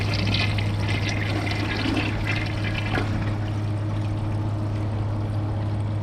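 Toilet flushing a microfiber towel and rag together, a loud rush of pouring, swirling water with a steady low hum beneath, tapering to a continuous gurgle.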